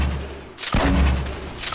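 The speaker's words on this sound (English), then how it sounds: "You shoot rockets, huh?" An RPG rocket launcher fires in a video game: a sharp, loud blast bursts in partway through, followed by a rumbling, roaring tail and a second surge near the end.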